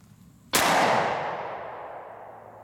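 A single sharp pistol shot firing a 180 gr FMJ round, 10mm Auto or S&W .40, at a target about 7 yards away outdoors, a loud crack followed by a long fading echo.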